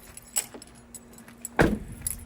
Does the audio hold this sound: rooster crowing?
no